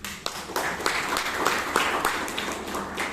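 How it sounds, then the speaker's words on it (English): Applause at a Toastmasters club meeting in Bangalore: a small group clapping at close range, individual hand claps clearly separated in an uneven rhythm, moderate and steady throughout. "A lot of applause."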